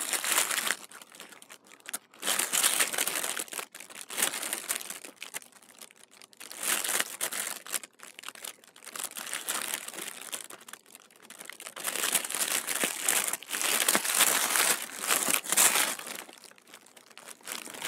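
Cardboard subscription box sealed with a very sticky sticker being carefully peeled and opened, giving continuous close crinkling and crumpling of paper and packaging in uneven bursts, no talking.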